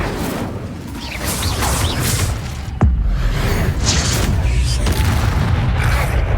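A fire spell cast in Hogwarts Legacy, a sharp crack near the middle followed by a rushing, roaring burst that sustains loudly to the end, with whooshing layers throughout.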